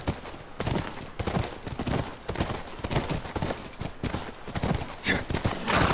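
Hooves clip-clop in a steady rhythm from a horse in a video game, set near a ranch, with the clatter close and busy throughout, broken by brief gaps.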